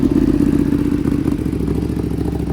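A Ducati Panigale V4 S sport motorcycle engine runs loud and close, a steady throbbing idle with rapid pulsing and slight surges in pitch as it is revved.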